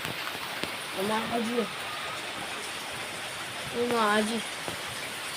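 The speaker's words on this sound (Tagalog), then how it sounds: "kung narinig nyo na ulan" Steady rain falls, a continuous soft wash of drops spread across the whole clip, while a voice speaks briefly twice over it.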